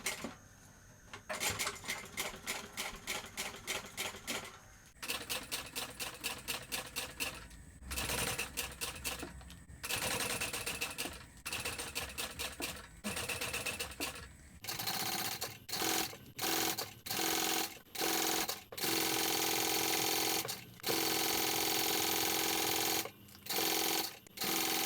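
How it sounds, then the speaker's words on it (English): A sewing machine stitches a backpack strap 1/8 inch from the inside edges, running in repeated bursts of rapid mechanical clatter with short pauses between, loud and close, with no talking. "I'm going to stitch this at 1/8 inch from each edge, each inside edge of our smaller strap piece."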